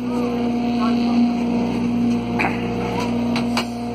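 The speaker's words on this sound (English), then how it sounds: "What you can now hear is the very loud engine noise here at the back." Loud, steady boat engine drone at the stern of an Antigua 2 cruiser on the Norfolk Broads, with a strong low hum and rumble, continuous throughout, with a few brief clatters and knocks on top.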